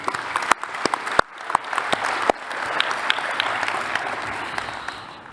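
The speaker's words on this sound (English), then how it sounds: "So a big round of applause to AIB." Applause from a large audience at an in-person college graduation ceremony, steady dense clapping for about five seconds, punctuated by a few sharp, louder claps near the start.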